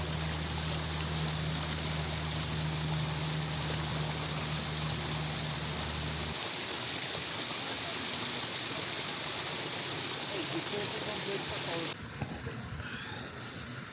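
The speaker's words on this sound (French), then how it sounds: "les cascades là que vous voyez, en fait c'est des sources d'eau chaude" Hot spring cascades at Otumuheke Stream in New Zealand pour in a steady, broadband rush of water, loud and continuous. A low engine-like drone sits under it early on, and the tone shifts slightly near the end.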